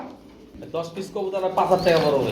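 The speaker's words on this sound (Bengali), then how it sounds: "দশ পিস কবুতর রয়েছে বিভিন্ন বিটের মধ্যে" Pigeons for sale cooing softly in the background while people talk nearby, with a few faint chirps mixed in.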